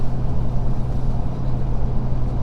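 A Ford Powerstroke diesel pickup towing 14,500 lbs up a hill in fifth gear gives a steady, heavy low drone that holds without change throughout.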